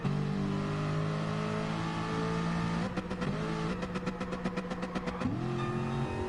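A race car engine in Gran Turismo Sport drones steadily on an out lap in a manufacturers round, then revs and shifts through pulsing gear changes, loud and close with no talk.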